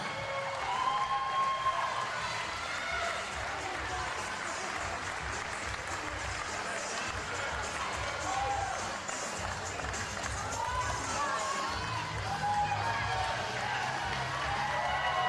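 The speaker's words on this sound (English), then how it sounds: "Good round of applause." An audience at a live show claps in a sustained round of applause. It sounds quiet and somewhat distant, with a steady wash of hand claps lasting about fifteen seconds.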